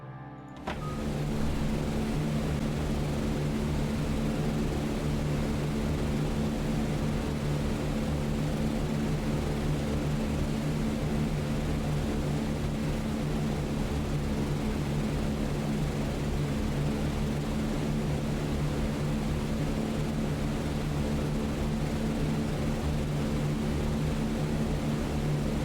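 Steady multi-engine propeller drone of a B-17 bomber in flight in a World War II flight video game, a dense, unbroken roar that holds at constant loudness throughout with no talk over it.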